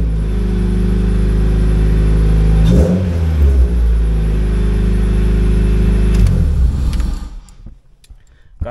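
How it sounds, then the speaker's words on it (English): A 2002 Honda Civic Si engine runs loud and close for most of the stretch, its steady idle hum briefly rising with a rev, then cutting off to near silence at the end. "I'm going to go ahead and fire it up for you guys so you guys can hear."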